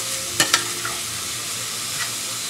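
Pineapple, onions and mushrooms fry in a hot pan for sweet and sour chicken, with a constant sizzle and two sharp utensil clacks early on, then a softer scrape. No voices.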